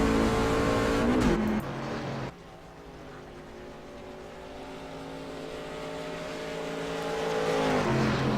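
A MaxSpeedTV race truck pulls back onto the track to catch the field, its engine a steady loud drone that drops in pitch partway through and then builds again as it accelerates.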